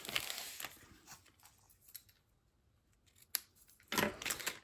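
Ribbon scissors snip through ribbon while a gift bow is tied, giving several quick, close, crisp cuts spaced apart, with a dense burst of snipping near the end.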